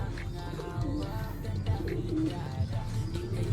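A hungry young male pigeon gives soft, low, repeated coos close by, in a steady rolling rhythm over quiet background noise.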